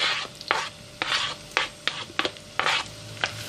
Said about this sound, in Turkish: Birkaç dakika soğanları kavuruyorum.